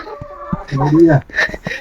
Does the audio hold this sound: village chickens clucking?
yes